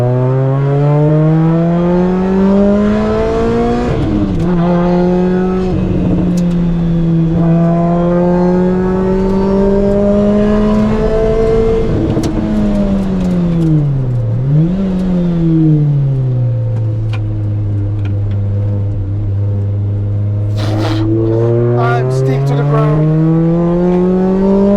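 A Lotus Exige S engine drones loud and close from inside the car, revving up and down in long sweeping pitch changes as it accelerates and shifts, with someone talking over it.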